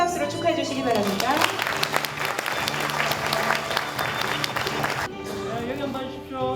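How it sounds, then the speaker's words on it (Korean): Applause at a Cheongsong County signing ceremony for a project agreement, a crowd clapping in a dense, steady burst that breaks off sharply, with voices heard over the clapping. "큰 박수로 축하해 주시기 바랍니다."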